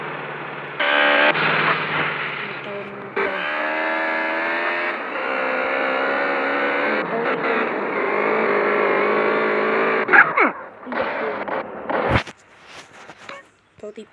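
Motorbike engine from GTA San Andreas, an MSX model, droning loudly and steadily with shifting revs for about ten seconds, then breaking into short bursts and fading as the clip ends.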